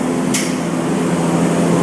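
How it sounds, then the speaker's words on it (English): Spray gun spraying conversion varnish onto MDF for a high gloss finish, a steady loud hiss of atomized spray with a sharp burst near the start. "this is a conversion varnish that I'm spraying."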